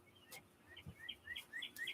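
Small birds chirp outside in quick, high, repeated tweets, several short calls in succession, faint and somewhat distant with no talking.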